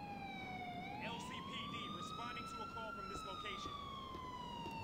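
A police car siren wails in the video game Grand Theft Auto IV, one smooth rising and falling tone, fairly faint under steady background game noise.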